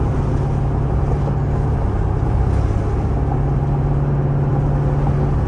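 A rebuilt Dodge Charger fitted with a 392 transmission cruising along, its engine a steady low rumble with a deep droning tone that holds constant throughout, heard from inside the car with no talk.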